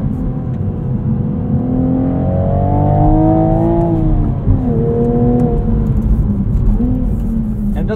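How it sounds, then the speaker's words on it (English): A 2023 Toyota GR Supra 3.0 with a manual gearbox, its engine blipping and rising in pitch through rev-matched downshifts, a steady loud drone broken by quick revving swells, heard from inside the cabin. "Rev matching those downshifts is pretty easy."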